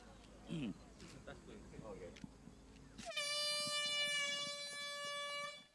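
A loud air horn blasts for about two and a half seconds to start a river clean-up event for World Water Day, following someone speaking over a PA.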